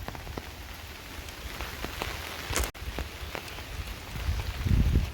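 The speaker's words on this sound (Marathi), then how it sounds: "पाच ते दहा मिनटं झालीत अजून काय पाऊस गेला नाही" Steady heavy monsoon rain patters on a surface in hill country in Konkan, with scattered louder drops and a low rumble building near the end.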